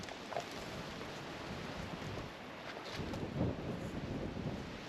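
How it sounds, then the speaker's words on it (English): Strong wind drives rain against a tarp shelter while storm camping, making a steady close hiss and patter broken by gusty buffeting, with no voices. "Some really strong winds bringing that rain in."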